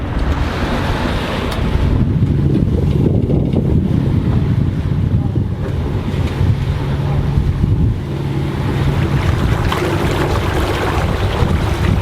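A sailboat's motor runs on an open-ocean passage from Indonesia toward Africa: a steady low drone, close and constant, mixed with rushing wind and the wash of waves throughout.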